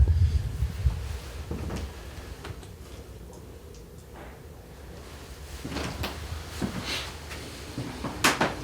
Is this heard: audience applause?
no